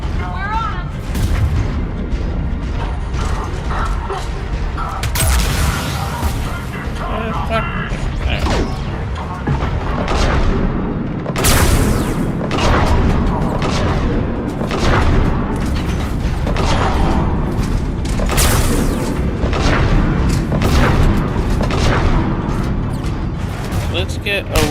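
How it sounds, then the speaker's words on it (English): Heavy booms and crashes from combat in Mass Effect 3 with grenade blasts, loud and repeated throughout amid chaotic gunfire, with voices speaking over the noise. "Let's get away from the grenade."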